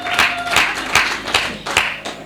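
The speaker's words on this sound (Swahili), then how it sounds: "Piga makofi kwa ajili ya hiyo." Congregation clapping hands at a church worship service, a run of sharp, fairly loud claps with bursts roughly every half second, crowd-like and alone with no speech.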